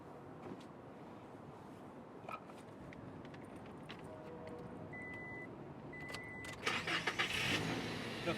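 A 2016 Toyota Tacoma 4x4 engine turns over and starts, heard faintly from inside the cab under quiet background noise, with a brief rise in sound toward the end.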